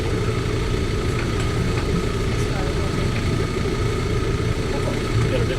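A sailboat's motor idles steadily in neutral, a constant low chugging drone that stays even and close throughout.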